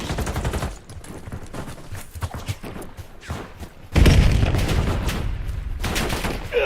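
An enemy grenade explodes in a video game, a heavy, deep blast midway that leaves a sustained rumble, preceded by rapid bursts of gunfire.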